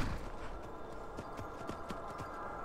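Horse hooves clip-clopping along a rough trail in the Skyrim video game, a quick steady run of close hoofbeats with a rhythmic galloping patter, moderately loud throughout and with no talk over it.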